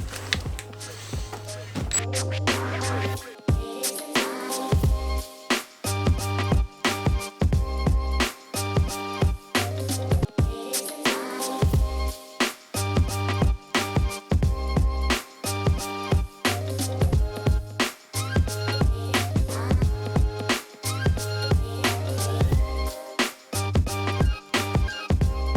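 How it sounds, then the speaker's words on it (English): A power drill fitted with a cleaning brush attachment scrubs a damp car trunk carpet. Its motor whine starts and stops repeatedly in short bursts, close and fairly loud, with no talking. "And then we go with our drill attachment."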